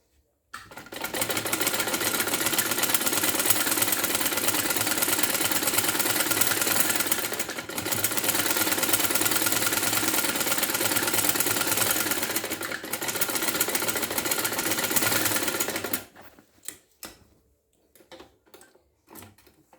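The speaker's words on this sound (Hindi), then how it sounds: "अब इस तरह से फोल्ड करेंगे और यहाँ पे हमें सिलाई कर देनी है। ये मैं सिलाई करने जा रही हूँ।" An electric sewing machine stitches a sleeve trimmed with central lace, running in a loud, close, continuous whirring drone in three long bursts with brief pauses, then stopping and leaving a few faint handling clicks.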